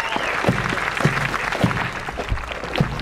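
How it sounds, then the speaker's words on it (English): A crowd claps continuously, dense and steady applause filling the space from start to finish. "Let's give them a big round of applause."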